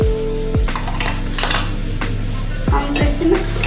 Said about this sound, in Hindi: मसाला को जलाना नहीं है, इसे ऐसे ही चलाते जाना है।